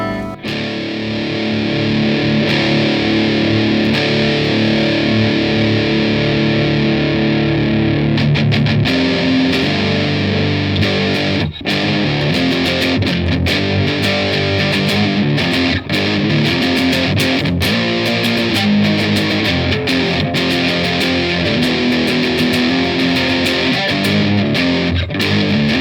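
Electric guitar through a Strich Super Riot distortion pedal plays loud, heavily saturated metal chords and riffs, sustained and dense for over twenty seconds with brief choppy breaks, no speech.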